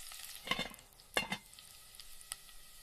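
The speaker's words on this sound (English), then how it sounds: "I stir the food." Food stirred in a pan on a stove, two or three short scraping strokes with a light tap, quiet and close with a faint sizzle between.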